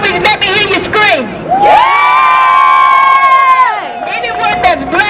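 A crowd at a rally screams and cheers loudly, overlapping high-pitched shouts and whoops swelling into a sustained scream in the middle before breaking back into mixed shouting.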